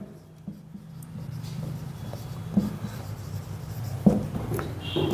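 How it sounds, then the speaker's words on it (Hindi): Pen or chalk writing out a trigonometry formula during a lecture, soft continuous scratching strokes with a few sharper taps, faint and close against a low steady hum. "तो हम सबसे पहले फॉर्मूला लिखते हैं।"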